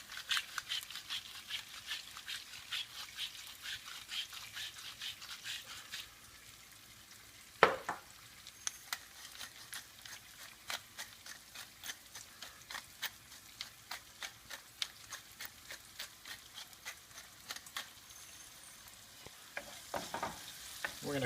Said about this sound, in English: Next thing I'm going to put in here is about a half a diced red onion. I'm going to saute that a little bit.